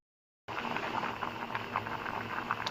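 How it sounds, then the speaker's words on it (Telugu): Bangalore brinjal simmers in water in a pot, giving a soft, continuous bubbling and hiss that starts suddenly after a brief silence and carries on without talk. "చూడండి ఉడుకుతుంది."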